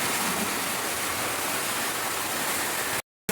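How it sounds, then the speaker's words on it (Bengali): Fish curry broth comes to a boil in a pot, a loud, dense, steady rushing bubble filling the whole stretch before cutting out briefly near the end. "ঝোল আমার ফুটে এসেছে, এখন দিয়ে দিচ্ছি মাছটা।"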